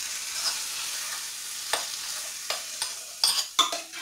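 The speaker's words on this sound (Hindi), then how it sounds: "मैं दाल में लगा देती हूँ तड़का," Tempering of spices poured into cooked dal with tomatoes and onion sizzles and crackles, with several sharp bursts and splutters over a quieter background hiss.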